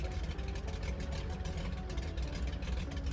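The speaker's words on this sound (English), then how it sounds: "we'll bring this left engine to idle. Just because the engine sounds cool when it's at idle" An aircraft's left engine idles on the ground near the runway, a continuous loud droning hum with broadband whine, steady and unbroken with no talk.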